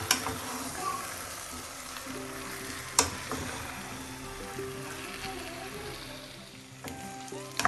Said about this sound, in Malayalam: മാരിനേറ്റ് ചെയ്ത് വെച്ച ചിക്കൻ ചേർക്കാം എല്ലാം കൂടെ ഒന്ന് മിക്സ് ചെയ്യാം